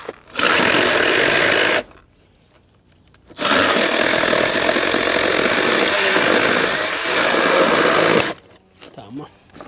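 A Milwaukee M12 FHS cordless pruning saw cuts dry wood in two loud buzzing bursts, the first short and the second longer, separated by a quiet pause, with faint talk in the gaps.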